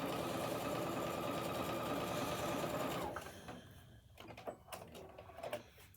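A sewing machine runs a stretch stitch with a steady, loud mechanical whirr for about three seconds, then stops, leaving a few faint clicks and knocks.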